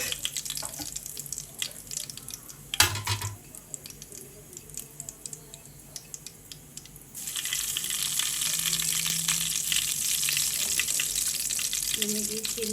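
Mustard seeds and cumin hitting hot ghee in a pan for dal tadka, a soft sizzle that swells into a steady, brighter crackling frying hiss partway through, with a few clinks, close and moderately quiet.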